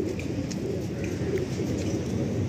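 Kalanka pigeons coo in a low, continuous murmur on a morning near a metro line, with a steady background hum throughout.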